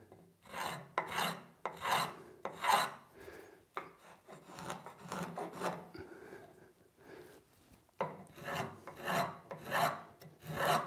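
Repeated rasping strokes of a hand file cutting a chamfer along the edge of a wooden part for a small boat, steady back-and-forth rhythm with brief pauses, close and clear.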